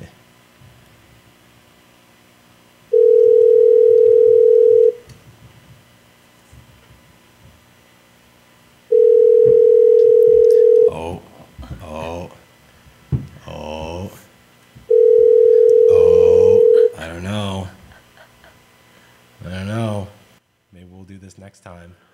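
Telephone ringing tone on a call being placed, three long steady rings separated by pauses of line hiss, with a person talking between and after the later rings.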